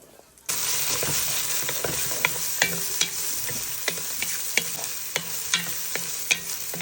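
Smoked sausages sear in a pan with a loud, constant sizzle that bursts in after a quiet start, punctuated by repeated sharp taps and scrapes from a utensil turning them.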